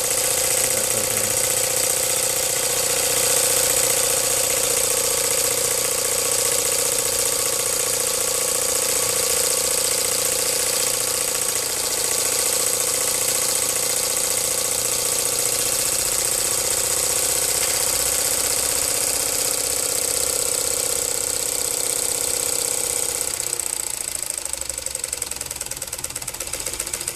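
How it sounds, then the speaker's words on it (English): A live steam traction engine chugs and whirs continuously with a ratcheting, geared clatter and high hiss, fairly close and even in loudness throughout. "The engine slows down quite a bit when the pump is running too."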